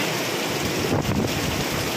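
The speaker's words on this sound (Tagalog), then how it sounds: "mayan lakas na ng ulan" Heavy rain and gusting wind during Super Typhoon Uwan, a loud continuous roar of downpour and buffeting gusts close to the microphone.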